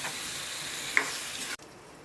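Ingredients for igado fry in a pan, a soft, steady sizzle with a faint clink partway through, then the sound cuts off abruptly near the end.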